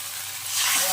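A close, steady sizzle of spice paste frying in a hot pan for a drumstick (moringa) vegetable dish, the hissing crackle swelling louder toward the end.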